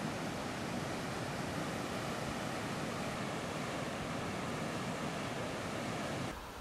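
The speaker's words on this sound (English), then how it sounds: "This is the second surge of the flash flood." Swollen Fountain Creek rushes past in a second flash-flood surge carrying large debris, a loud, constant broadband roar of churning water that holds steady throughout, with no voices.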